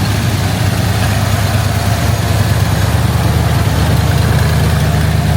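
A Ford Mustang engine idles at high revs just after starting, a loud, steady low rumble that holds an even drone for the whole stretch with no pauses.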